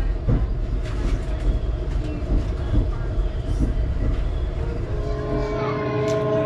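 A passenger train in Scotland rolls along the rails toward North Berwick, a constant loud rumble heard from inside the carriage with rhythmic wheel clacks and faint creaks throughout.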